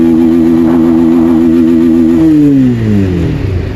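A Bajaj Pulsar 220F motorcycle engine revs hard in first gear, a loud, steady mid-pitched drone that climbs, then dips and shifts as the throttle eases near the end.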